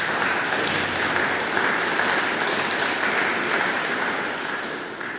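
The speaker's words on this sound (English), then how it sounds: "Can we give them a round of applause?" Sustained round of applause from an audience at a church meeting, steady and fairly loud for several seconds before tapering slightly at the end.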